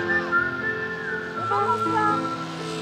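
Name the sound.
whistled theme from the film soundtrack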